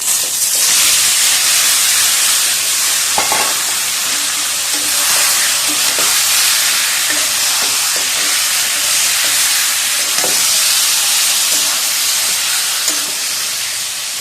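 Marinated chicken frying in a kadai, a loud, close, hissing steamy sizzle that runs continuously with occasional stirring knocks, no voices.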